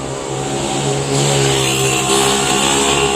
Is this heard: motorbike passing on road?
yes